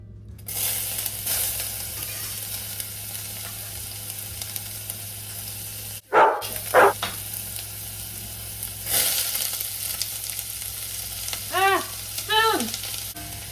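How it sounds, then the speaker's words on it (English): Garlic, ginger and onion sauteing in neutral oil in a pan over medium-high heat give a steady close sizzle, broken by a brief gap, with a few scraping stirs and clinks from utensils. "I'm gonna put some oil in my pan. Just a neutral oil. It's on about medium-high heat, and I'm gonna saute all 3."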